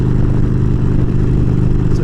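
Motorcycle engine running steadily, a loud, close, continuous low throb with no talking.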